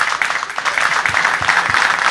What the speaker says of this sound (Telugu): క్లాప్ మీకే